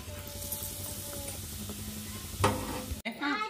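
Hot oil being tested for frying in a home kitchen, heard as a low, steady sizzle with a brief burst of crackle near the end before a sharper splattering hiss, at moderate volume with a faint voice in the background.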